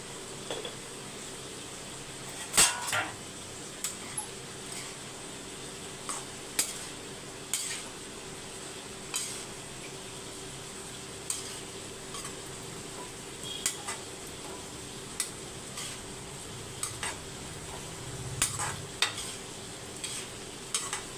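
Broad beans with salt are stirred in a pan, a spoon scraping and tapping the metal in irregular clicks over a soft steady sizzle, close and alone.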